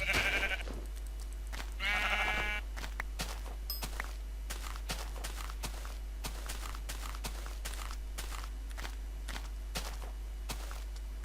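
Minecraft sheep give two bleats near the start, then a long run of steady blocky footsteps and clicks carries on alone without further cries or voices.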